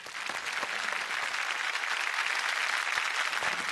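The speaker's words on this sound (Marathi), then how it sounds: "तुमच्याच ग्रुपच्या मुलींसाठी एकदा जोरदार टाळ्या होऊन जाऊ द्या" Dense, steady applause from a television studio audience for a girls' singing group on a Marathi music competition show, a sustained close clapping that continues evenly throughout.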